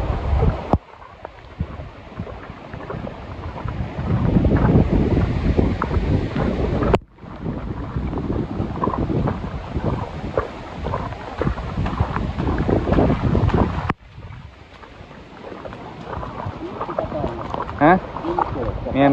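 Strong, steady wind from tropical storm Noru roars and buffets the microphone across open rice fields, loud and continuous with a few abrupt breaks, while people talk underneath.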